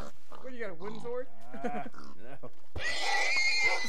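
Minecraft cows' drawn-out lowing hurt calls with wavering pitch, several in a row, close and clear, followed by a burst of noisy clatter.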